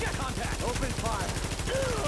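Rapid machine-gun fire in a video game firefight, a steady stream of close, loud shots over roughly two seconds with a voice faintly under it.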